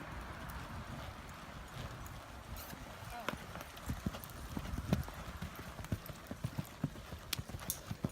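A horse canters during a riding lesson, its hooves striking the ground in a steady, rhythmic clip-clop close by, with an instructor's voice speaking over the hoofbeats.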